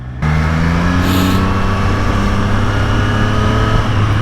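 A 2024 Triumph Street Triple R motorcycle engine kicks in abruptly and holds a loud, close, steady revving drone with strong harmonic tone that dips slightly near the end.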